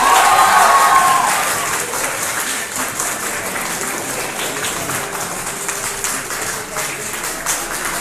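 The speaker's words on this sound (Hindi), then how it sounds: "तालियों की गड़गड़ाहट जो है वो तेज होनी चाहिए थोड़ी।" An audience applauds at a sports awards ceremony, with loud, dense clapping at the start that fades to a softer, steady patter of claps, and a few whistle-like cheers early on.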